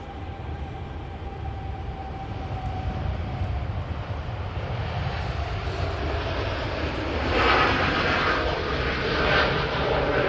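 A TUI Boeing Dreamliner bound for Cancun rolls for takeoff, its engine roar building steadily and swelling louder toward the end, heard from a distance with wind-like noise and no talking.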